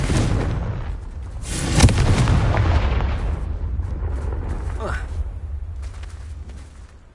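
Confringo blasting spell going off in Hogwarts Legacy, a loud booming burst around two seconds in over a dense rumbling game soundscape with further crackling impacts, while a voice speaks.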